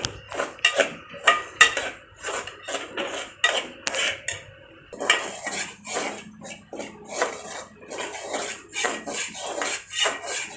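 A spoon repeatedly clinks and scrapes against a pan while semolina halwa is stirred with ghee, an irregular series of close metallic knocks and scrapes with brief pauses, no talking.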